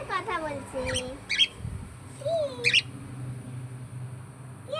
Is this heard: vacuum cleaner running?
no